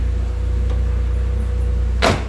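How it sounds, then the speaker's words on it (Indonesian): A 1994 Honda Legend coupe's vacuum soft-close door pulls shut with a single soft, muffled thud near the end, over a steady low engine hum. "ini vakum pintunya"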